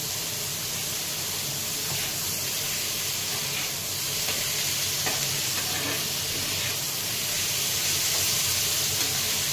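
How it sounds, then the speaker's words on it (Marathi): Onion and tomatoes sauté in a hot pan for tomato chutney, giving a loud, steady sizzle with a hissing wash and faint stirring scrapes throughout, close up and uninterrupted by talk. "आता यामध्ये ना मी टोमॅटो टाकणार आहे, टोमॅटो थोडस परतल्या मग लाल तिखट टाकणार आहे चटणी"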